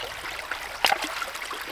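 Creek water running steadily past a ram pump intake, a soft continuous trickle with one brief splash in the middle, close and fairly quiet.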